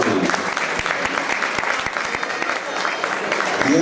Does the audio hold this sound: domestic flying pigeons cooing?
no